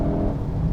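A Mercedes-AMG A35 or Volkswagen Golf R hot hatch pulls hard in third gear out of a corner, its engine roaring steadily and loudly and close by, with no voices.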